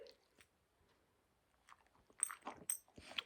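A dog chews a homemade no-bake dog treat, with quiet wet bites and a few crunches that grow louder in the second half, close by and alone after near-silence.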